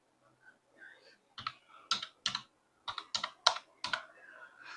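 Keys on a computer keyboard are tapped to enter login details, a few light clicks first, then a burst of about ten sharp keystrokes in an uneven rhythm, close and fairly quiet with silence between.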